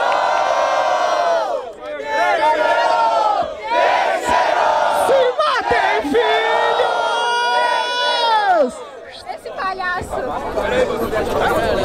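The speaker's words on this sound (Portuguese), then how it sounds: "Barulho para as rimas de Marco" A large crowd at a freestyle rap battle in Barueri, São Paulo, roars, cheers and shouts continuously, with rising whoops and yells surging in waves, loud and close throughout.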